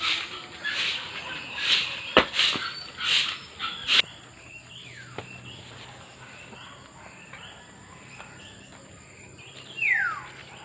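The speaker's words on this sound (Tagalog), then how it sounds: "Ang ang cute ng huni ng ibon" Several short bird chirps ring out in the first four seconds, then fade into a quiet outdoor background with faint insect buzz and a lone call near the end.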